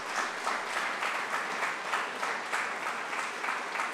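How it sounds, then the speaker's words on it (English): An audience at a university press conference applauds in a steady, dense wash of clapping that swells in gentle pulses, heard from a slight distance at moderate volume with no talk over it. "I think Xavier deserves a round of applause for that."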